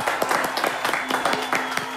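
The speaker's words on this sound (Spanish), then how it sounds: "Acá, un aplauso, por favor," An audience at a gaming expo panel in Temuco claps in a brief, dense burst of rapid irregular hand claps, fairly close.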